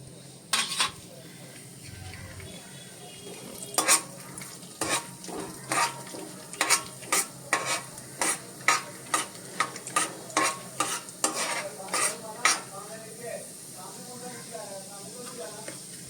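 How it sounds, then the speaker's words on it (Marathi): Chana dal and urad dal fry in hot oil for an upma, with a soft continuous sizzle broken by a steady run of sharp spoon taps and scrapes against the pan, close and fairly loud. "हे तेल आपण तापत ठेवलंय आणि त्याच्यामध्ये ही चणा डाळ आणि उडीद डाळ घालतो आहोत"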